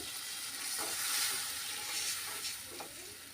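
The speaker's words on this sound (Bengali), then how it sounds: "ভালোভাবে নাড়াচাড়া করার পরে এখানে দিয়ে দেব সামান্য পানি।" A little water added to spicy pabda fish curry in a pan, giving a steady sizzling, steaming hiss with faint stirring scrapes, close and continuous.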